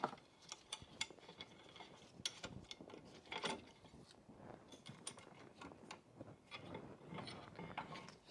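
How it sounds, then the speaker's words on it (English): A C-clamp is cranked to press a rear brake caliper piston back on a Cadillac CTS, making faint, irregular clicks and creaks at close range with no speech. "Now with the C-clamp, you set it like this, and then you tighten it"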